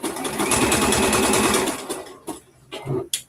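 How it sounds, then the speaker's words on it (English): A sewing machine sews a neckband onto a knit top, a loud, close, continuous rattling hum that runs for a couple of seconds, then drops to a few short bursts and stops. "I'm almost done sewing the neckline, the neckband on."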